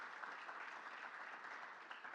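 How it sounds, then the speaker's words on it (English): A conference audience at a state chamber of commerce energy summit claps steadily for a few seconds, a moderately sized crowd's applause heard alone at an even level. "Ashley Lusky, a hand of applause for Ashley for her work in putting this together."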